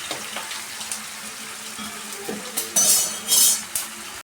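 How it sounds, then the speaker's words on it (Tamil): Water is poured into a pan of purple cabbage cooking with soaked moong dal and salt, giving a couple of close, splashing gushes after quiet stirring and clinks of utensils. "ஒரு அரை கப் தண்ணி சேர்த்துக்கணும்"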